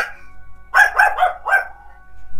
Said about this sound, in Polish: Głupi pies!